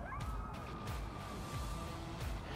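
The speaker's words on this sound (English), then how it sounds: "there are a lot of coyotes out right now." Coyotes howling across an open field at night, faint and distant wavering wails that rise and fall over a low background hush.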